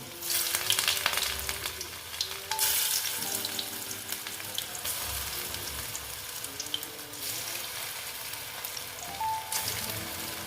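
Spinach pakoras dropped one by one into hot oil, a continuous bubbling sizzle with bursts as each piece goes in, close and fairly loud, with faint background music tones underneath.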